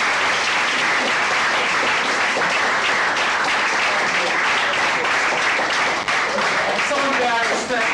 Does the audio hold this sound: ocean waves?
no